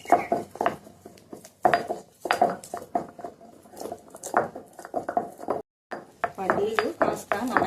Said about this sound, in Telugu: పల్లీలు కాస్త నలగాలి.